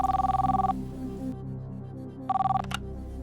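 A telephone rings as a call is placed from the Kaun Banega Crorepati studio, two bursts of electronic ringing separated by a pause, then a short click and tone as the line connects.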